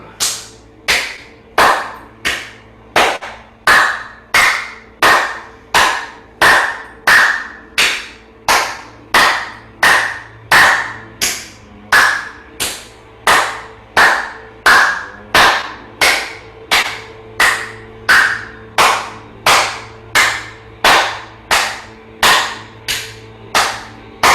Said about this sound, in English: A little round of applause for you and everyone in the room.